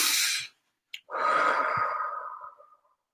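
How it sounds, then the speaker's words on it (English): One deep breath: a brief airy inhale, a short pause, then a long, slow, soft exhale that fades out, close to the microphone with no talking. "I just let myself breathe in and breathe out and just release it"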